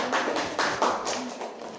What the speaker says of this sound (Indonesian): Kita beri tepuk tangan yang meriah untuk kelompok 4.